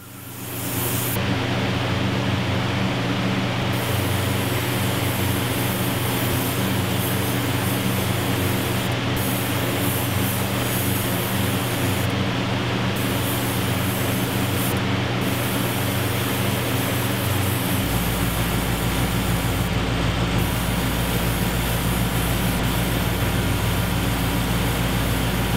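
An airbrush sprays leather dye onto a gun belt for an inside-the-waistband holster set, a constant close hiss of air and spray that holds steady throughout, with a low steady hum underneath and no speech.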